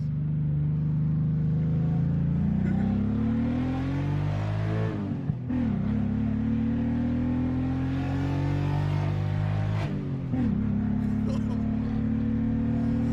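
A BMW E30 engine drones loudly while driving, its pitch climbing through gears with brief drops at two shifts, heard from inside the car.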